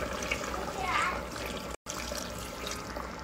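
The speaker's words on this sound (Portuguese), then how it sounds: "Vou colocar só mais um pouquinho de água." Water trickles and splashes into a pressure cooker pot holding onion and garlic, a steady close pour with a brief dropout partway through.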